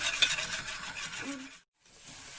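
Flour being dry-roasted in a pan in a home kitchen, heard as soft, quiet scraping and stirring with a faint hiss, briefly dropping to near silence before resuming.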